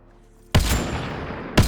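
Two loud, close gunshot blasts from a weapon in the Mass Effect Andromeda video game, the first ringing out with a long decaying tail before the second hits just over a second later, with no speech.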